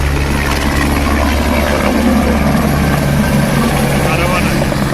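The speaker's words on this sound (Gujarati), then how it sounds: "આ હેલિકોપ્ટર પાછો પેસેન્જર ઉતારી અને બીજા પેસેન્જર લઈને રવાના છે." A helicopter at the Baltal helipad on the Amarnath Yatra route drones loudly nearby, its engine and rotors making a continuous low throbbing roar that fills the clip.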